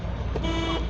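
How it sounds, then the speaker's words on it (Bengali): A car horn sounded by a learner driver during a driving lesson, a single short steady tone lasting about half a second over the low rumble of the running car. "হরেন দেন"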